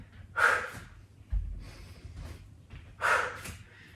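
Two forceful, noisy exhales during a yoga HIIT workout, sharp breathy bursts about two and a half seconds apart with softer breaths and light movement thuds in between.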